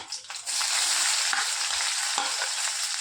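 Chopped onions fry in a pan beside cumin seeds, giving a steady close sizzle with soft stirring scrapes and no talking.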